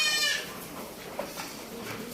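Goats on a goat farm bleat in a short, close burst at the start, followed by quieter farmyard ambience with faint animal sounds in the background.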